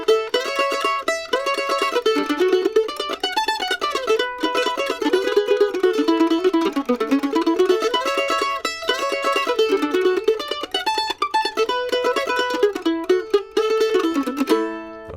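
Mandolin picks a fast melody in D with staggered sixteenth-note tremolo runs, bright rapid strokes flowing continuously up and down, close and solo without talking.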